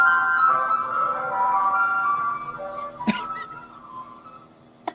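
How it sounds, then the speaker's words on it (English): An ice cream truck jingle plays outside the window: a steady, tinkling melody of bright whistle-like tones, moderately loud and continuous, ending with a few sharp clicks near the close. "An ice cream truck? Ice cream truck outside."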